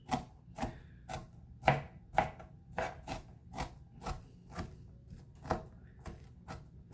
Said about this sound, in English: we're going to dice this, you know, chop it up, mince it up